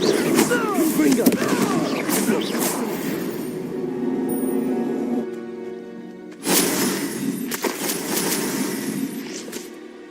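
Confringo blasting spell in Hogwarts Legacy, bursts of crackling fiery impacts with glassy, shattering tails, fading and then a second burst, with a voice speaking over the effects.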